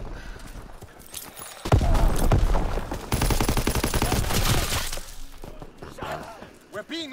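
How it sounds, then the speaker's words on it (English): Gunfire rattles through a Call of Duty: WWII match in dense, rapid bursts, like close automatic weapons, rising to a sustained loud volley before thinning out, with voices talking over it. "I'm getting shot through two sets of crates that you are not supposed to"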